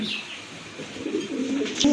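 Large pigeons from a rare-breed collection coo in a low, throaty burble that swells toward the end, with faint chirping and background hiss around them.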